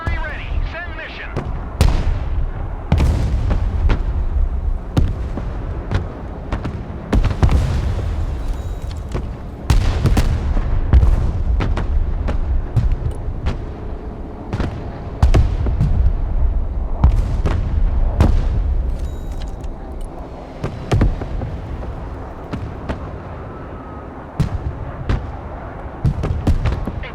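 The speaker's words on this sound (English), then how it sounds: "keep nuking them with artillery. Mobile artillery ready. Send mission." Artillery fire in the video game Broken Arrow: repeated loud booming blasts at irregular intervals over a steady rumbling battle bed, with radio-style voice callouts between the explosions.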